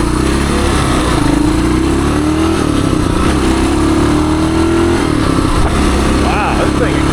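A 1978 Suzuki DR370 motorcycle accelerates hard through its gears, the engine note loud and close, rising and dropping with each shift. A rider talks over the engine.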